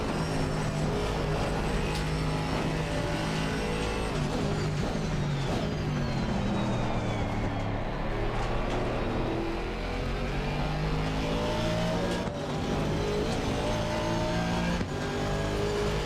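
A Volvo driven in the BeamNG driving game, its engine droning steadily with tire noise and occasional revs, a continuous car sound at moderate level with no talking.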